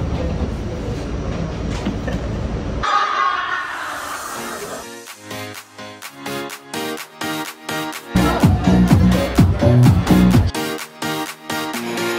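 A New York subway train in motion: loud rumbling interior noise, then rhythmic clickety-clack of wheels over rail joints with squeaks and rattles, its intensity rising and falling as the car moves.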